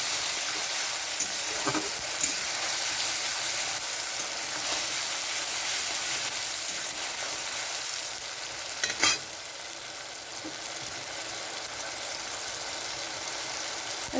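Grated tomato is stirred into a frying fish roe curry with mustard paste and green chillies, giving a steady sizzle with a few scrapes of the spoon against the pan and no talking.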